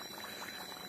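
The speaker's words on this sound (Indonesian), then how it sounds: "bagaikan air yang sedang mendidih" Natural gas bubbling up through water from the ground, making a soft, continuous burbling like water at a boil, faint and brief.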